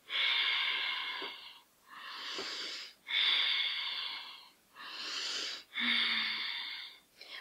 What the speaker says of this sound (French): Je vais faire 3 respirations.